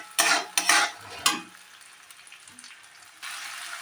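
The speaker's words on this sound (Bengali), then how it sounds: "মটরশুঁটিটাও কিন্তু ফ্রাই হচ্ছে আর মশলাটাও একদম গলে যাবে এইভাবে" Peas and tomato fry with spices in a pan, giving a few loud stirring scrapes and sizzle bursts up front, then a soft steady sizzle that swells again near the end; no talking.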